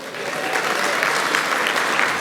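A room full of people applauds, dense steady clapping that stays level throughout the short stretch.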